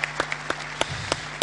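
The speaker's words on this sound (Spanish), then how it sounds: "se merece un aplauso, ¿no? Por ser el primero" An audience at a panel talk claps for the first speaker, with scattered individual hand claps spaced irregularly and a low hum beneath them.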